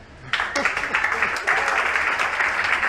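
Church congregation cheering and clapping during a worship service, a dense roar of applause and raised voices that swells quickly and holds steady throughout.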